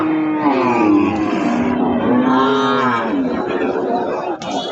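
Cattle at a livestock market low in long, loud, close moos, one drawn-out call rolling into another with a little background murmur.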